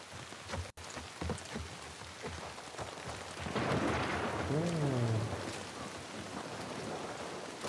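Rain and thunder in the video game The Last of Us Part II: a steady hiss of rainfall with a low rumble of thunder swelling in the middle, and faint game sounds over it.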